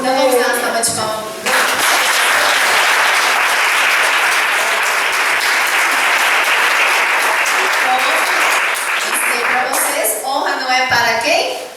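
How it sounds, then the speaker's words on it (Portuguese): Loud, sustained audience applause fills a church women's congress hall for about nine seconds, with a voice speaking briefly before the clapping swells and again as it fades out. "Então vamos dar uma salva de palmas."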